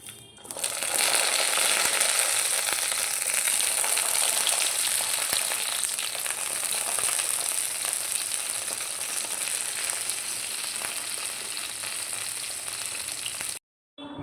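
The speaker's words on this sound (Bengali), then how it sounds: "কড়াইতে তেল গরম হয়ে গেছে," Eggplant slices fry in hot oil in a wok, giving a loud, steady sizzle that carries on for a long stretch before stopping abruptly near the end.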